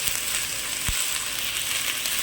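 Chicken sukka sautés in a pan with a steady, close hissing sizzle, broken once by a soft knock of a utensil.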